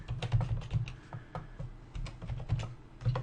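Brisk clicking of a computer keyboard as someone types in a password, a steady run of close, light key taps with no voices over it.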